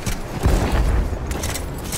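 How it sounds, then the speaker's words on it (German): A grenade going off in the Battlefield 1 video game, a short deep boom with a rumbling tail, alone and fairly close. "Granate ist raus."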